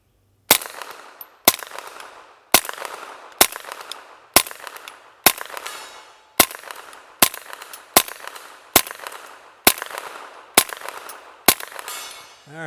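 A Ruger PC Carbine fitted with a Franklin Armory trigger fires in semi-automatic mode at an outdoor range with targets at 100 yards. Eleven loud, evenly spaced sharp shots ring out about a second apart, each with a short echoing tail.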